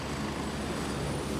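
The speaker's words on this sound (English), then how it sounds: "Non-friendly chopper." Non-friendly helicopter in the video game Gray Zone, a steady, loud rotor and engine rumble that holds evenly throughout with no voices over it.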